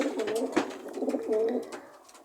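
Racing pigeons coo in a close, soft, rolling series of repeated low calls, with a brief rustle partway through and no talk.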